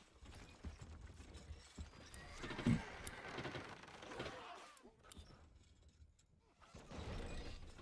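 Horse archers in a strategy video game, with whinnying horses and clip-clopping hooves over continuous battle noise and mechanical clatter, loud and busy, with a brief sharp neigh near the middle.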